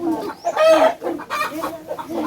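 Chickens clucking, hens and a rooster, in a livestock pen at a school, a near and loud run of clucks and calls with no talk over them.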